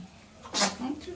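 A single short sneeze bursts out close up, sharp and breathy, followed by a brief murmur.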